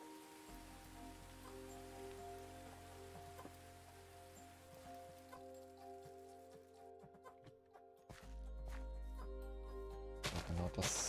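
Steady rain patter from Minecraft weather runs under a low game drone and background music, faint and continuous, growing denser and louder toward the end.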